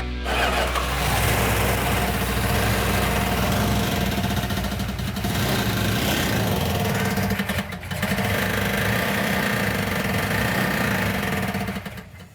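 A 1970s Plymouth Barracuda engine, damaged by sand poured into it and being fed by a newly fixed fuel supply, cranks over and then runs with a loud, steady, rough rumble for about twelve seconds, close by and without talking.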